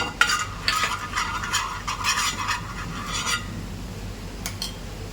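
Butter melts in a hot pan for bread ka meetha, with a soft sizzle under a quick run of scraping stirring strokes that stop partway, followed by a few light clinks.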